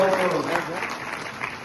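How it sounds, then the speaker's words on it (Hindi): Audience applause after a stage play, a steady wash of clapping that rises and holds throughout, with voices mixed in under the applause. "जोरदार तालियां सबके लिए।"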